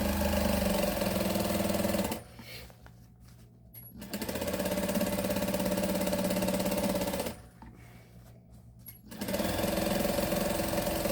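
A sewing machine stitches a waistband seam in two sustained runs of fast, even mechanical whirring, separated by short quiet pauses, close and alone without talk.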